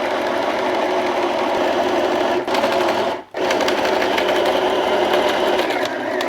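A Vevor sewing machine winding a bobbin with the foot pedal held down, a loud, steady whirring drone close by that breaks off briefly twice and then resumes.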